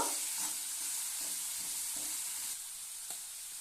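Red pumpkin-vine greens fry in a pan with a steady close sizzle and hiss, punctuated by soft scraping stirs at irregular intervals, no talking.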